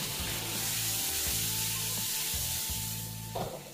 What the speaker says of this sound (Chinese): 再起锅烧油，加入鱼头、鱼骨，这样子给它煎一下。